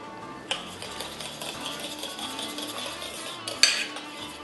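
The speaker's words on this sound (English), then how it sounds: "So we've got 1 and 2 together and we're going to mix it." Pancake batter being mixed in a bowl, soft continuous stirring with a faint scraping texture, a light clink near the start and a sharper utensil knock against the bowl near the end, close and quiet.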